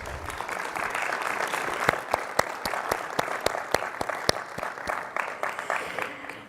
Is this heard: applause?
yes